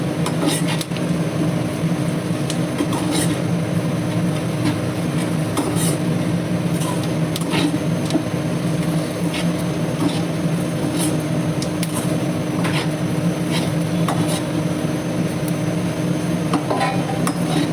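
Spices, coriander powder, chili powder and turmeric, go into a hot pan and get stirred in, with a steady sizzle and scraping spoon sounds running throughout, close and fairly loud, no talking.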